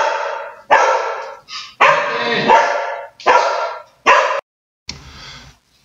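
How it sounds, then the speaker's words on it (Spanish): A dog barks in a string of loud, close bursts, about six sharp barks with short gaps, the last one rougher and more drawn out. "el perro se puso un poquito loco"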